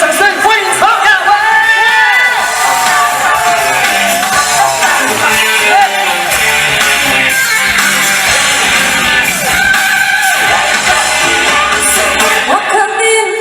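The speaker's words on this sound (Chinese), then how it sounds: "再用力热情的掌声欢迎" A concert crowd at an outdoor evening music show by a riverside whoops, shouts and cheers loudly and continuously, with applause mixed in and a host's amplified voice talking over it.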